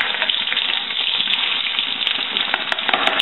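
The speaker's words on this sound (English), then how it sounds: "now it's time to fry the other side of the fish" Fish sizzles and crackles steadily in a hot frying pan, a dense, continuous hiss with small pops scattered throughout, close and fairly loud with no voices.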